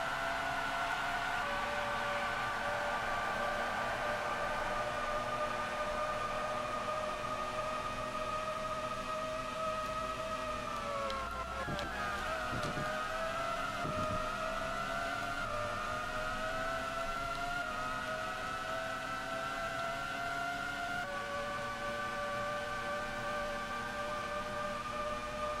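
Formula 1 race cars in the PS1 video game whine at a steady high pitch, their engine tones climbing and dipping together with a brief sweep as one passes, loud and continuous with no talk.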